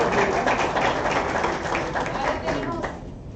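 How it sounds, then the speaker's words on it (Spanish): Audience applause after a talk at an educational session on active teaching methods, a broad clatter of many hands clapping that thins out toward the end, fairly loud, with some voices mixed in. "Un fuerte aplauso para ella."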